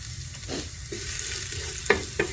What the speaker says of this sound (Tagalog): Habang ginigisa-gisa natin yung garlic.